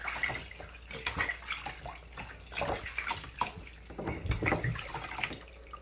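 A shower runs steadily while a puppy is bathed, with close splashing and irregular spatters of water.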